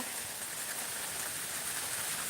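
Heavy rain falls as a steady, dense hiss of drops on surfaces, constant and enveloping, with no voices.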